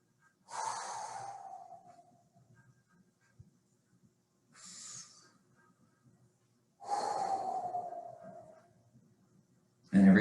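Slow, deep breaths taken during a full-body stretching session, three long airy exhales separated by quiet pauses plus a shorter breath between them, close to the microphone with no talking.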